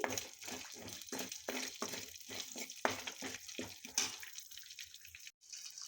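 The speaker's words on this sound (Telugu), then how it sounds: "పచ్చిశనగపప్పు, ఆవాలు, జీలకర్ర, పచ్చిమిర్చి, కరివేపాకు ఇవన్నీ బాగా వేగనివ్వాలి" Chana dal, mustard seeds, cumin, green chillies and curry leaves sizzle and crackle in hot oil in a pan. The frying comes in irregular spattering bursts with stirring, close and fairly quiet, and then tapers off near the end.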